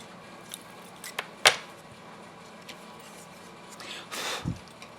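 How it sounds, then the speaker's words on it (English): Scissors cutting out paper for a handmade reverse z-fold card, a few sharp close snips scattered among quiet desk handling noise. "Okay, now I'm going to cut this out."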